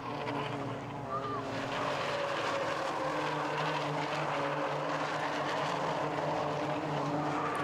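Rallycross cars racing at Lydden Hill in the British Rallycross Championship, engines droning steadily at a distance over the loose surface and tarmac, with a commentator talking over the noise.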